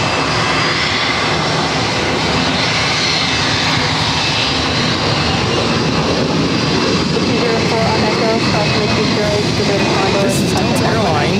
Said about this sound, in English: This is Delta Airlines 2357 taking off to Washington Reagan National on an A319